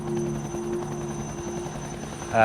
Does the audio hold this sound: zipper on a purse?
no